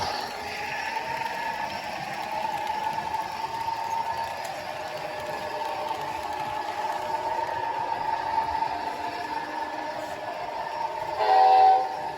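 An Athearn Genesis Amtrak P40DC #839 model locomotive with DCC sound plays a steady diesel engine drone with rail-like tones, and a short horn blast sounds near the end.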